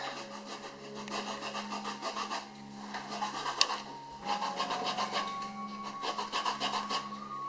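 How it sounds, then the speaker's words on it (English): A small hand zester rasps steadily across the peel of fresh limes for a key lime pie, a close, continuous scraping texture in rhythmic strokes with brief pauses and no talk. "I've washed them and I'm going to zest them and then I want the juice out. This is my little zester"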